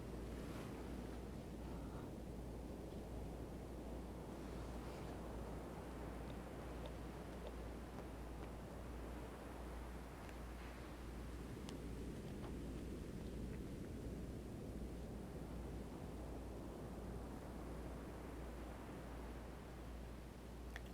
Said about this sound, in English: Listening to the sound of the waves as they move along the shoreline.